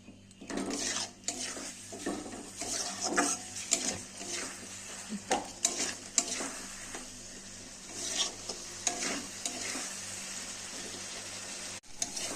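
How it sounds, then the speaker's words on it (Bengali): Onion paste with chili, turmeric and cumin powders and a little water frying in a pan for a spicy amudi fish curry, with frequent metal spatula scrapes and clinks over a moderate, steady sizzle, close up and without speech. "আর একটু জল দিয়ে দিলাম, দিয়ে মশলাটাকে কষিয়ে নেব।"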